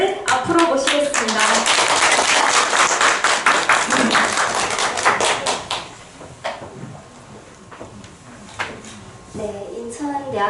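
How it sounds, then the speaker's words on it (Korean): Seminar audience applauds to welcome a speaker to the front, dense clapping for several seconds that fades to scattered claps, with voices murmuring underneath. "큰 박수로 김부용 연사님을 앞으로 모시겠습니다"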